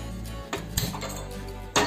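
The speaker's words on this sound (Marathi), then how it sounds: "त्यासाठी कढई ठेवली आहे." A metal kadhai pan is set down on a kitchen stove, giving a few short clanks and clinks against a low steady background hum, with no talk.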